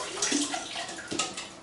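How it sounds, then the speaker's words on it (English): Water pours from a tap into a trumpet-cleaning soap solution, a short, splashy running stream with small gurgles, close and moderately loud. "I'm trying to make sure there's a little bit of water in the soap solution."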